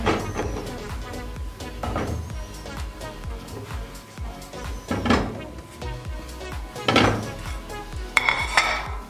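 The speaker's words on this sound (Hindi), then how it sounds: "अब इसे पैन में डाल देंगे" Raw sweet potatoes tumble into a cooking pan in a kitchen, giving several clattering knocks and bumps of tubers against metal, close and moderately loud, with no talking.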